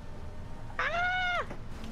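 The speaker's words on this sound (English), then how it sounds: "Sound like you're torturing your cat." A single drawn-out cat meow, loud and close, rising then falling over about half a second amid a low background rumble.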